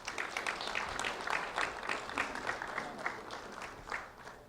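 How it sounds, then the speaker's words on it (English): An audience at a community awards event applauds a fourth-grade student, Kyleigh Brinkman of Lehigh Acres, with moderately loud clapping from a room of people that rises and settles over a few seconds. "Kyleigh Brinkman, round of applause."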